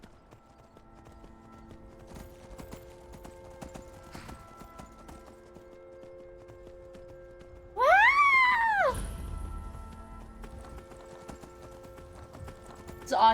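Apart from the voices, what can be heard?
horse galloping, from a video game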